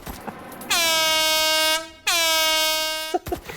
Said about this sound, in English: Air horn foregrip.